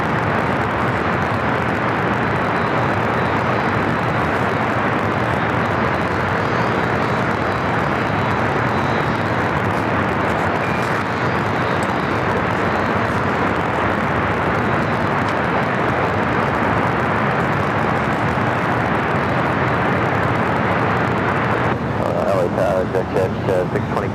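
Aircraft at LAX airport give a continuous loud roar of jet engine noise and wind, steady throughout with no break, heard close and broadband.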